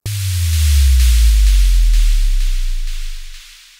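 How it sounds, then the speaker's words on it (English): A deep synthetic boom with white noise built in, for an electronic dance track, hits hard, its low rumble sliding downward while a hiss of white noise rides on top, then both fade out. "This boom is quite nice because it has a bit more impact,"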